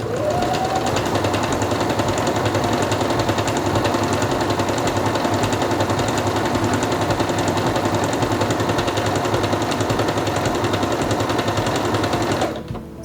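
Singer Quantum Stylist 9960 sewing machine stitching fabric in a fast, steady buzzing rattle that runs evenly at close range for about twelve seconds before stopping abruptly.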